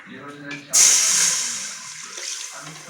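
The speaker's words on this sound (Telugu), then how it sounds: "ఇప్పుడు బిర్యానీ బాక్స్లో కొంచెం వాటర్ పోస్తాము" Water pours in a sudden steady stream into a large biryani pot, starting abruptly after some faint talk and continuing loud, then gradually easing.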